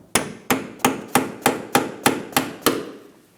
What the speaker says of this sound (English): I'll put it on the outside of the tip of the bolt and gently tap it all the way out